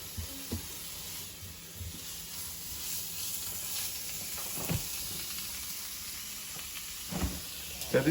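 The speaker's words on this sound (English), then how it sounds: "You just want to brown the meat a little bit, and the spices will sear into the meat." Ground meat and spices browning in a hot pan for chilli con carne give off a steady, broad hissing sizzle that runs throughout, broken by a few brief clatters near the end.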